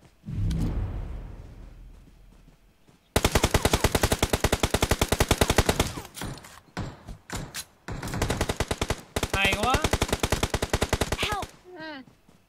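Gunfire in the mobile battle royale game PUBG Mobile: after a fading boom, long rapid bursts of automatic fire crackle loud and close, broken by short pauses and a few single shots.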